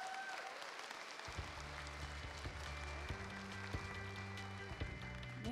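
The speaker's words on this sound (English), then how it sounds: "Can we give our worship team a round of applause?" Church congregation applauding the worship team at a Sunday service, a steady, soft patter of clapping from the audience, with sustained instrumental chords entering beneath it after the first second.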